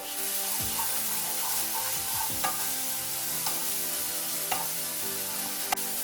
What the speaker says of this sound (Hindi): अभी इस मसाले को 4 से 5 मिनट तक लो फ्लेम में फ्राई करेंगे